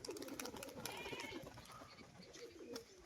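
A female pigeon coos in a rolling, throaty phrase close by, with a few sharp clicks and light rustling, faintly repeating toward the end.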